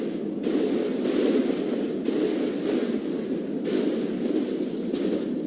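Steady wading through water in the video game Dark Souls 3, a continuous rushing, splashing wash with faint periodic breaks, loud and close with no voices over it.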